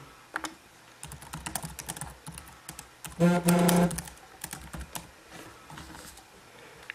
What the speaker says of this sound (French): Je vais juste y écrire que je fais une vidéo.